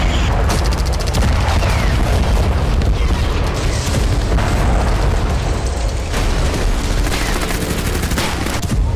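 Heavy bombardment in Gaza, with loud, continuous booming explosions and rapid bursts like gunfire rolling without pause, dense and overlapping throughout.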